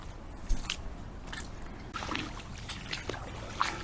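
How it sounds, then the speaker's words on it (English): Someone wades through shallow river water about 30 centimetres deep on a countryside walk, with close, rhythmic sloshing splashes from each stride and a quiet outdoor background. "as you can no doubt hear, I'm wading through the water"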